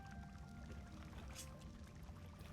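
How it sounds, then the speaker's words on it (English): Flowing water in the survival game Ark Survival Ascended pours and splashes continuously, a soft, steady rushing wash heard faintly and alone, with no talking over it. "Just listening to the flowing water"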